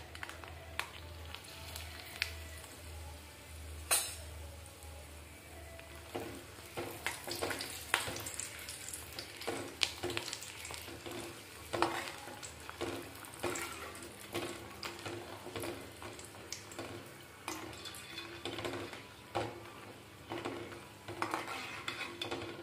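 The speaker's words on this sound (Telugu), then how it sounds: "ఇప్పుడు మనం చేసుకున్న పచ్చిమిరపకాయలు వేయించుతున్నానండి ఇందులో వేసి." Green chilies for buttermilk chilies frying in a pan: a steady low hiss runs under scattered metallic clinks and scrapes of a utensil against the pan, with no talking.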